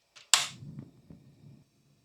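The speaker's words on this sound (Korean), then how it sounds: "불을 켜요." A portable gas burner under a blue pot is lit with a sharp ignition click and a short soft rush of flame, followed by faint small knocks, with no talk.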